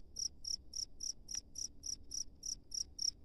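A large field cricket chirps from close range in a rice field, giving a steady, evenly spaced train of about a dozen short, high trills, alone against faint background noise.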